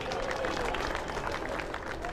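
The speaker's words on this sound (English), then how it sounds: "Give a big round of applause" Crowd applause and clapping from spectators at a Flat Track Canada motorcycle race, a steady dense wash of noise lasting the whole stretch, with voices mixed in.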